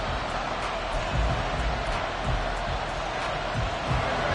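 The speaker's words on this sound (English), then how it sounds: "This crowd turning up the decibel level." A stadium crowd roars in an American football video game, Giants versus Eagles, a steady broad wash of cheering and murmur that swells slightly and holds throughout.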